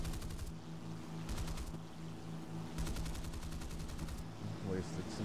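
A Tempest Mk V fighter in an air-combat video game fires its cannons in rapid mechanical bursts, three or four volleys over a continuous engine drone, heard close and loud.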